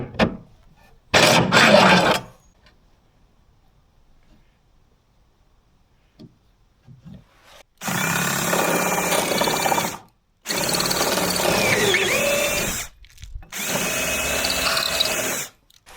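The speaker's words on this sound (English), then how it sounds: "Hopefully that'll hold it while I get the first hole drilled." A power drill bores holes in wood while working on a lifting rudder for a 23 ft paulownia boat. The motor whines loudly and close in three sustained bursts separated by short pauses, with a brief spin-up near the start.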